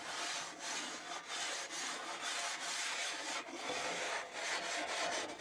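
A cleaning stone scrubs an oiled, rusty Blackstone griddle top in steady back-and-forth strokes, giving a close, gritty rasping that repeats evenly without any talk.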